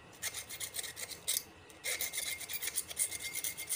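A hacksaw blade or screwdriver scrapes leftover paper and varnish out of an electric motor's winding. It makes quick, rhythmic rasping strokes in short bursts, close and moderately loud, with brief pauses between.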